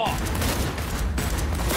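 Gunfire in the video game Cyberpunk 2077, a dense run of rapid shots and crackling bursts in the middle of chaotic combat sound, loud and continuous, with a voice partly mixed in.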